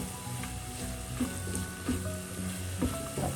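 Cumin and fennel powders sauté in hot oil for a spinach (palak) chicken curry, giving a steady close sizzle with intermittent scraping and clinking as a utensil stirs the pan.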